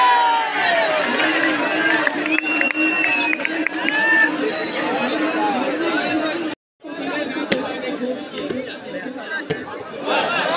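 A crowd at a kabaddi final chatters and cheers steadily with scattered shouts and a few slaps. A whistle sounds briefly, there is a short dropout, and the noise resumes more thinly.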